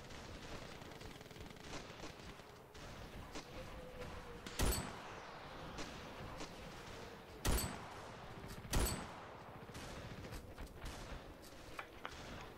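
Shotgun gunfire in the video game Ravenfield, three sharp, loud blasts spaced several seconds apart over a busy background of distant battle shots and game noise.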